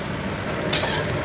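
Wet anchovies frying in a pan give a loud, steady, close sizzle throughout, with one quick scrape or clink of stirring partway through and no talking.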